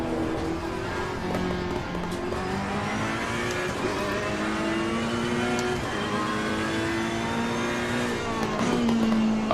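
A GT3 race car engine in a racing video game at Monza drones and climbs through the gears, revving up and shifting repeatedly at a steady, close, synthetic-sounding pitch.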